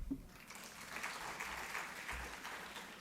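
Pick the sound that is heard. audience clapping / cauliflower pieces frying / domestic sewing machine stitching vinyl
audience clapping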